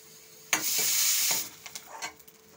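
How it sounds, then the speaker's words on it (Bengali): Dry red chilies, panch phoron and bay leaves fry in hot oil, starting with a sudden loud sizzle that fades after about a second into short stirring scrapes and small crackles, close by and with no voice. "শুকনো মরিচ প্রায় ফ্রাই হয়ে গেছে।"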